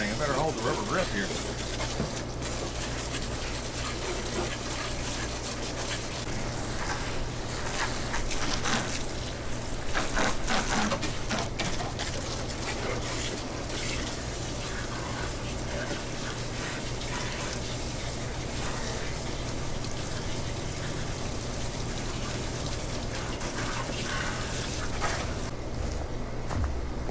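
Hot water sprays steadily from a low-pressure washer used to clean a Honda, a continuous hiss and gush lasting throughout, with a low hum beneath and speech over parts of it.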